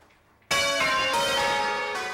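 Church bells at Christchurch Cathedral in Victoria ring out loudly inside the belfry, with a sudden strong clang that sustains and rings on, a fresh strike joining partway through, very close and overpowering.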